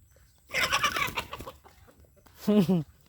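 Chickens clucking at a rural Lao farm, a busy cluster of close, overlapping clucks early on, then a quieter gap before a louder, rising cackle near the end.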